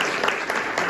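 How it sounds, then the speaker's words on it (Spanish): Congregation in a church clapping together to welcome first-time visitors, a dense, steady burst of many hands close by with no voices over it. "Vamos a darle un aplauso."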